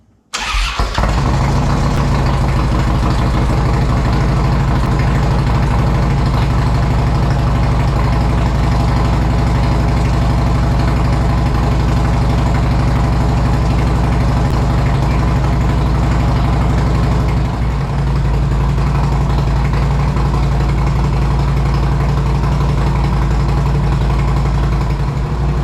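A Harley-Davidson Twin Cam 103 V-twin on a budget build fires up for the first time after a brief crank, then settles into a loud, steady, lumpy idle that runs close and unbroken for the rest of the clip.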